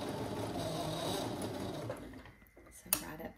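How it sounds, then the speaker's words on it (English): A sewing machine runs close by, stitching tiny quilt block seams in a steady whirring burst that slows and stops, followed by a brief clack and light handling sounds. "I'm gonna sew right up to that pin before I take it out."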